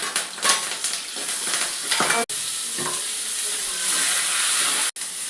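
Green chilies and curry leaves frying in hot oil for a sevai dish: a loud, steady sizzling hiss with crackles and stirring, broken by two very brief silences.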